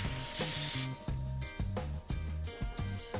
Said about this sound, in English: Grab your tire pump and attach the nozzle.